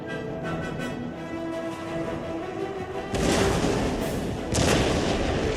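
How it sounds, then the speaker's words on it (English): Artillery cannons fire in the Total War Empire battle game, giving booming blasts at about three and four and a half seconds over a steady background of battlefield noise. "Two artillery cannon."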